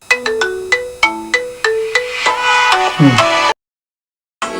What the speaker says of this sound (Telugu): ఎవడ్రా బాయ్ ఈ టైంలో ఫోన్ చేస్తున్నాడు?